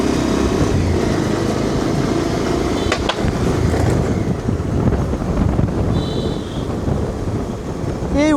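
A motorbike rides through heavy rain near a bridge, heard as a constant loud wind-buffeted rush of rain and road noise with a brief thump partway and a faint tonal chirp near the end.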